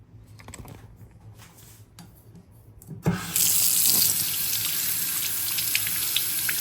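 A compressed cloth is held under a running kitchen tap, the stream starting abruptly midway and then pouring steadily and close, loud and hissing, after a few faint taps and rustles.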